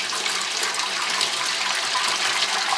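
Steady rush of water running from a Regency faucet, loud, close and continuous with no talking.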